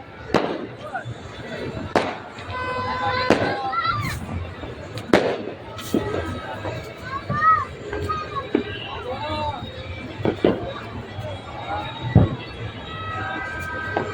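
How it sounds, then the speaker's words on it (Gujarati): Firecrackers pop and bang in quick, irregular bursts at a Makar Sankranti (Uttarayan) celebration, some close and sharp, others further off, over a steady murmur of crowd voices. "કેવા ફટાકડા ફૂટ્યા છે"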